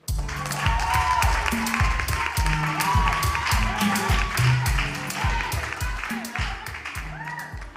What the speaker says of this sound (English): Our next contestant, a round of applause for Hackman.